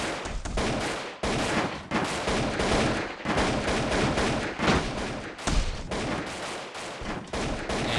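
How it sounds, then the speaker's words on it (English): Airship battle in a video game, with dense, continuous rifle fire and grenade blasts in rapid overlapping bursts, loud and close throughout with no talk. "We're mainly going to be throwing grenades down upon this guy. And all they're able to attack us with is some rifles."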